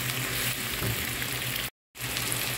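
Ginger-garlic paste fries with onion and salt in a pan for vegetable samosa filling, a dense steady sizzle close to the pan that cuts to total silence briefly before resuming.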